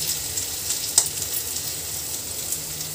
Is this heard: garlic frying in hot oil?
yes